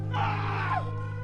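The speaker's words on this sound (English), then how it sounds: "the fog covers him and the man's terrified screams are heard." A man's drawn-out scream of terror, rising and then trailing off, loud and close over a low steady hum.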